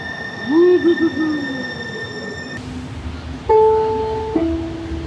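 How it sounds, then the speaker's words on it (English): A train pulls into the SeaTac Airport station with squealing wheels and steady rumble, followed by a two-tone electronic chime ringing out over the hum. "It is here!"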